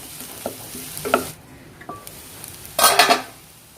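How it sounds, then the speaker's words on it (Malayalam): Onion sautéing in oil in a pan while cooking Kerala fish pollichathu, with soft sizzling, a few spoon stirs and scrapes, then a louder burst of frying near the end. "ഉള്ളി ഇപ്പം ഏകദേശം വഴണ്ടിട്ടുണ്ട്"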